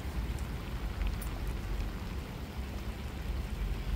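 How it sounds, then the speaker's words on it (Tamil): Steady rain falling outdoors in a village where ducks are kept, a dense, even wash of drops hissing continuously and fairly close throughout, with no voices. "மழை வந்துகிட்டு இருக்கு."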